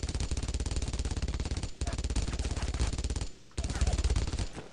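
Rapid bursts of machine gun fire from two guns in the World War II shooter Brothers in Arms: Road to Hill 30 during the push into Carentan, loud and close, three long strings broken by short pauses, with no talk.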